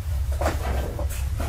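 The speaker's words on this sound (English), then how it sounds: "Sounds like the sliding door of the cabinet being closed." A sliding cabinet door closes with a short rumbling slide and a soft bump, fairly close and alone over a steady low background hum.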